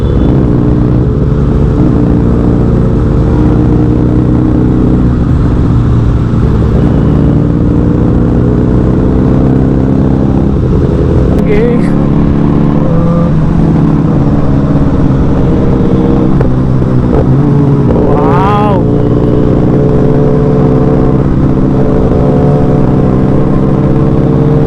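Motorcycles riding in a big bike rally on World Motorcycle Day, heard as a continuous loud engine drone close by, with revving that rises and falls and several bikes rumbling together.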